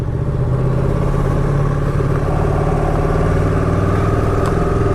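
A Ducati 959 Panigale engine lugs at low speed through Cambridge streets, a loud, close, continuous uneven drone with heavy low-end rumble and road noise.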